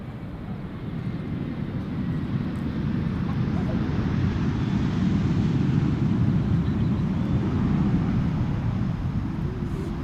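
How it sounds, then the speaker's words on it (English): A Boeing 777 airliner approaches Schiphol Airport, its engines a broad, steady low roar at a distance with wind rumbling across the microphone throughout. "Obviously I'm not going to follow that airplane when there is a 777 coming"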